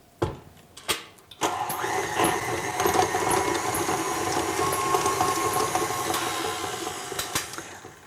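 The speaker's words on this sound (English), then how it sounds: "place the butter into the bowl of a stand mixer and beat until it's light and fluffy" A stand mixer starts up after a few knocks and then whirs steadily while beating butter in a bowl, a fairly quiet, even motor hum with faint clicks over it and no talking.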